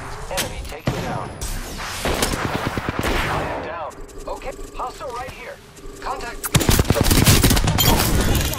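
Enemy gunfire in Apex Legends, rapid bursts of automatic fire rattling close and loud in repeated volleys, with talk over the shooting and game effects between bursts.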